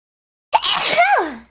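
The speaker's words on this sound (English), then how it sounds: "Oh, I gotta sneeze, hold on." A single sharp sneeze from a woman, bursting in abruptly after a moment of silence and trailing off with a falling vocal tone.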